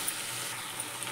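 Paneer cubes frying in a pan for hotel-style chilli paneer, giving a faint, steady, even sizzle throughout with no voices over it.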